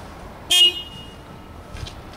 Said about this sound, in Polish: Sygnał dźwiękowy.